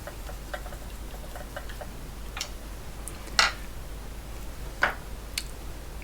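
A screwdriver tightens a wire onto the terminal block of a Creed 7B Mark 1 teleprinter, making a series of small close ticks and clicks with two slightly louder metallic scrapes.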